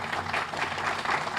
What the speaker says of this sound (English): So I want to give them a round of applause right now